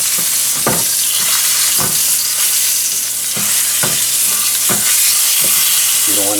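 Pieces of tomahawk steak sizzle in rendered steak fat in a pan, a loud steady frying hiss with periodic stirring and scraping strokes throughout, no talking.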